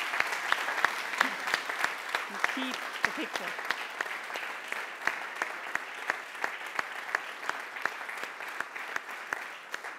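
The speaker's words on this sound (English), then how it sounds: "But you can still give her a little round of applause." An award ceremony audience in Kiel claps steadily for the Global Economy Prize, a dense patter of hands with sharper individual claps standing out. A voice speaks briefly over the applause.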